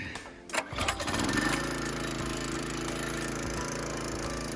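A wood splitter's small engine coughs and catches after a few sputters, then settles into a steady, close, droning idle.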